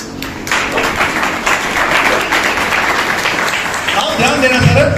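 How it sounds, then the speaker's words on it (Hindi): Audience applause at a motivational seminar in a hall, a steady wash of clapping that fills the room for several seconds, with some voices mixed in underneath. "एक बार अपनी तालियां मार लें।"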